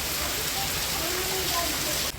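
Heavy first monsoon rain pours down as a dense, steady hiss that fills the brief moment close by and is cut off abruptly at the end.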